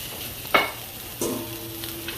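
Peppers and onions sauté in a pan with a steady soft sizzle, broken by two brief scraping stirs.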